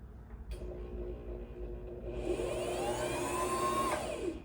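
A Brother ST531HD sewing machine winds a bobbin, its motor starting with a click then whirring steadily, rising in pitch into a high, even spin that holds before easing off, close and alone.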